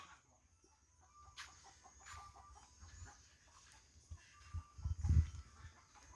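Chickens cluck softly in the background, with a louder burst of clucking near the end.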